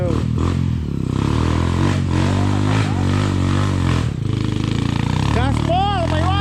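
A motorcycle revs loudly and pulls away close by, its engine note rising and shifting as it accelerates, with people talking over it.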